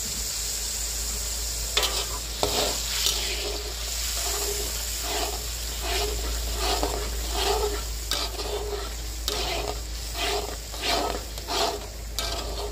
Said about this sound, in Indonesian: Selanjutnya, bumbu yang sudah saya blender akan saya tumis.